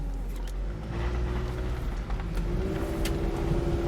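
Hyundai Elantra with a transmission that will not shift and severe engine power loss, heard from inside on a test drive as a steady engine drone with road noise, moderately loud and without talk.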